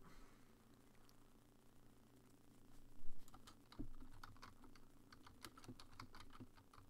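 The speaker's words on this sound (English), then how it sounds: "I'm just typing in everybody's name on them as they get them." Computer keyboard typing during a live MMA trivia stream, starting quietly and then becoming a brisk, irregular run of close key clicks over a low background hum, with no talking.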